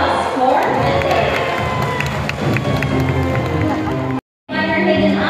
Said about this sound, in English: How about a round of applause for Bandit?